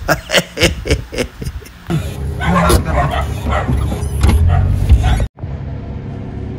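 A dog yips and barks in a quick burst of sharp, repeated calls while spinning around in a residential estate, then people chat over a running vehicle until the sound cuts off abruptly.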